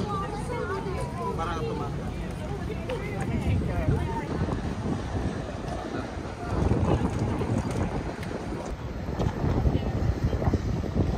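Wind buffets the microphone in gusty rumbles at Yara Bridge in Melbourne, with faint background voices and a busy outdoor wash of sound throughout.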